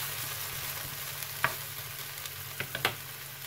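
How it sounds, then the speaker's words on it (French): Pineapple sizzles over medium heat in a frying pan for a beef and green bean stir-fry, a soft steady crackle with a few sharp utensil scrapes and clicks, close and without talk. "Je laisse à feu moyen pour faire cuire l'ananas mi-cuite avant de rajouter les haricots verts."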